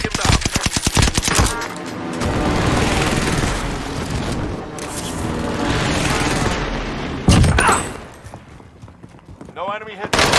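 Rapid bursts of automatic gunfire and single shots crackle in a first-person shooter game, loud and close, with heavy overlapping exchanges, over excited voices talking throughout.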